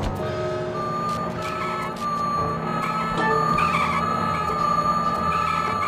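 Reversing beeps repeat at a steady pace over a humming car engine in Sly 2, with a faint tire squeal mixed in and no talking.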